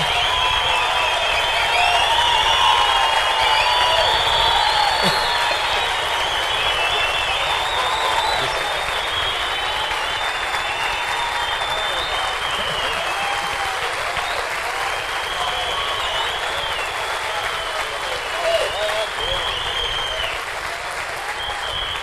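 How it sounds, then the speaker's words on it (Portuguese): A crowd at a church teaching event welcomes a guest lecturer with loud sustained clapping, whistles and cheering, a dense continuous roar of hands and voices with high whistling tones running throughout. "com palmas, assobios, uivos, bateção de pé e gritaria"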